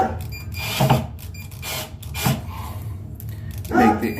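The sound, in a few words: screw driven into drywall wall anchor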